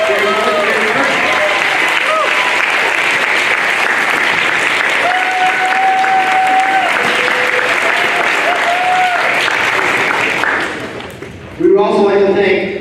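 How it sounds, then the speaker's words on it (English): An audience at a student Shark Tank pitch event breaks into loud, sustained applause with some whoops, and the clapping fades out before a voice begins speaking near the end. "can please stand for a round of applause?"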